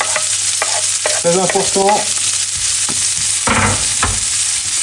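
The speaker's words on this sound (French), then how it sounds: "Et là, on y met les oignons." Onions for a bacon and cheddar panini sizzle steadily in a pan over moderate heat while being stirred, with a person talking intermittently over the frying.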